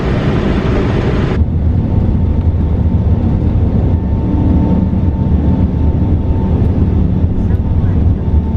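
Inside the cabin of a Lufthansa Airbus A380 on the takeoff roll, a steady loud engine roar and rumble fill the space after a brief burst of hiss.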